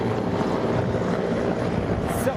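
Helicopters flying at the Aero India 2021 air show at Yelahanka Air Force Station give a steady, loud rotor rumble with wind noise, continuous throughout under a commentator's talk.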